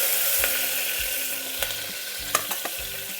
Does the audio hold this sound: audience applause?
no